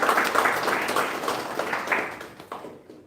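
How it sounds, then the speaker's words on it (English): Applause at a Toastmasters club meeting for two speakers: a short round of clapping from a small group, moderately loud and fading out toward the end. "Both of them deserve a big round of applause."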